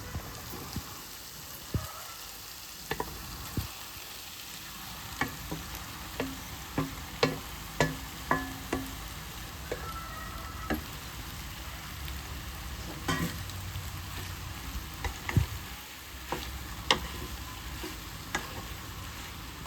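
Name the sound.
boiled pasta tossed and frying with masala and vegetables in pan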